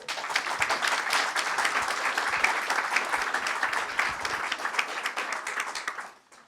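Audience applause for Stéphano Manservici at a youth discussion on development cooperation, sustained many-handed clapping that stays strong, then tapers off quickly at the end.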